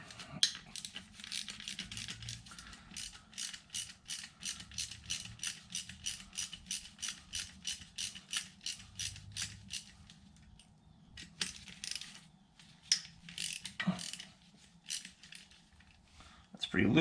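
Rapid ratchet clicking in long runs as bolts for the oil squirters on a Nissan VG30DE naturally aspirated engine are loosened, steady close-up bursts with brief pauses, a few metallic clinks and a louder knock near the end.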